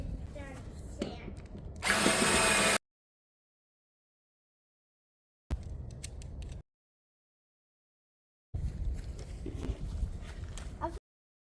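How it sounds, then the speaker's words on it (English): Bursts of a power drill with a 9/32 bit boring through a metal grill tray, separated by silent pauses, with a loud high-pitched grinding section near the start. "I got a 9/32 bit to drill through the other tray for the bolt to go through"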